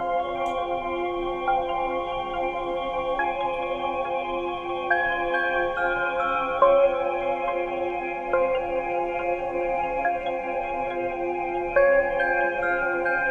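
Synth melody from an Analog Lab preset played in FL Studio, an eerie ambient trap line of sustained layered tones that step through slow note changes every couple of seconds, steady and clean with no drums or voices.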